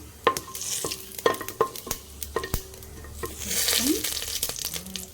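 Hot coconut oil crackles and sizzles as cumin seeds fry, with sharp utensil clinks and taps against a pan throughout.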